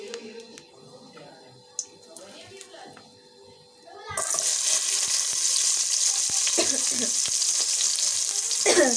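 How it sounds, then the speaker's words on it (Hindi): Chopped onions dropped into hot oil burst into a loud, steady sizzle midway through, after quieter kitchen sounds and faint background voices; the crackling frying continues strongly to the end. "ऑयल हो रहा है इसमें गर्म, और अब इसमें मैं डालूँगी प्याज आप लोगों के सामने"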